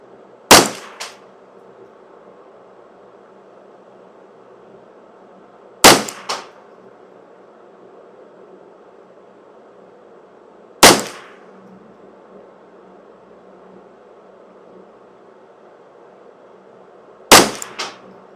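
Ruger 10/22 custom shop rifle firing .22 rimfire ammunition outdoors, four sharp, isolated cracks spaced several seconds apart, each followed by a faint ringing echo or target clang, over quiet background.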